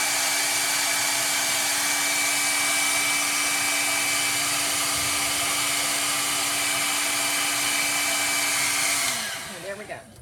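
A blow dryer blasts across a kitchen glass surface to dry it, a loud steady whir running nearly ten seconds alone before cutting off abruptly.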